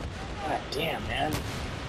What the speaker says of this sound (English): Quit letting them grenade us.